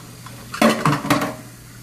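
Dishes clatter in a kitchen sink with water: a few close clinks and knocks of crockery in quick succession, with no voices.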